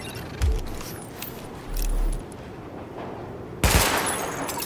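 Weapon-range gunfire in The Division on PS5: two loud bursts of shots, one near the start and one near the end, with a low hum and faint ambience between them.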